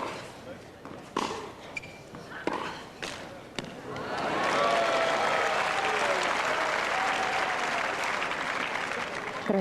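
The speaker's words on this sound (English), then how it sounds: "You hear those screams. A pretty rowdy crowd out there." A rowdy crowd at a women's tennis final in Brazil cheers and applauds loudly, a sustained roar with whistles and screams building after a few scattered claps and thuds at the start.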